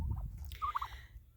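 Bourbon Red turkeys gobble in a single short, faint burst of warbling calls, heard at a distance in quiet surroundings.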